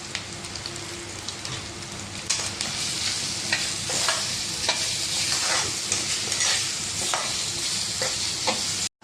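Steady crackling sizzle of onions, garlic, ginger and curry leaves frying in hot oil, with occasional stirring scrapes, close and fairly loud throughout.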